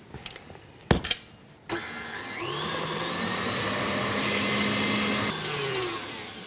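An electric stand mixer switches on and whips egg yolks with cream, a steady high motor whine with a whirring beater hum held for several seconds after a few clanks as it starts.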